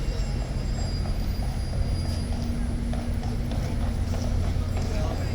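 Hooves of a large ceremonial horse clip-clop on pavement at Horse Guards in London, a steady run of soft strikes under constant crowd and traffic rumble, with people talking faintly nearby.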